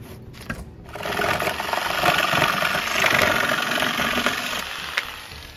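An Ingco 570W electric jigsaw cuts through plywood, its motor buzzing loud and close with a rough, rapid reciprocating rattle that rises after a brief start and holds steady for several seconds, with no voices.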